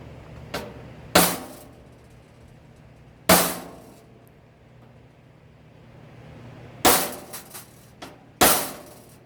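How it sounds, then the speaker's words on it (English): A hammer taps a screw mark into the bracket of an RK Drums 12LB Everything Kit, giving five or six sharp metallic knocks spaced unevenly over a quiet room, close and fairly loud. "I'm just going to make a dent right where I want that screw to go."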